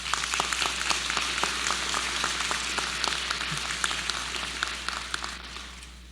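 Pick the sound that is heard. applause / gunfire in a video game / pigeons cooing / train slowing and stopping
applause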